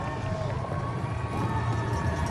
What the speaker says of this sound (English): A loud noise from the crowd.